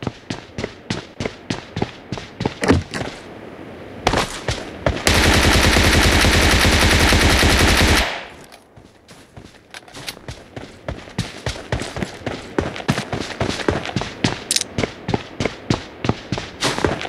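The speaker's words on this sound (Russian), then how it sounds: "Кто это в меня стреляет?" Gunfire in the mobile battle game PUBG Mobile, played on the Wikendi map: rapid loud rhythmic shots, a sustained dense burst of automatic fire, a brief lull, then more steady repeated shots.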